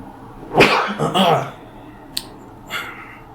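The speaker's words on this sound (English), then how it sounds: "Oh, I gotta sneeze again." A single sharp sneeze bursts out, followed by a short exhale and a quick faint click, with quiet room tone around it.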